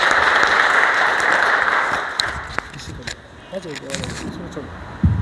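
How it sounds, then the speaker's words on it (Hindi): Audience clapping at an industrial safety day program, loud and dense at first, then thinning out and fading as a voice begins speaking and a few stray claps and knocks come through. "एक बार जोरदार तालियां उनके लिए।"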